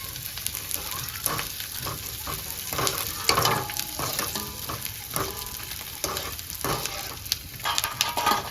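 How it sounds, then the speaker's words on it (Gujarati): Edible gum pieces fry in hot oil for Gujarati sukhadi, a steady crackling sizzle broken by repeated scraping stirs of a spoon in the pan, close and fairly loud, with no talking. "તો પહેલા ગુંદર તળી લઈએ"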